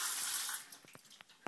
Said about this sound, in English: So you can just see the jet of water coming out.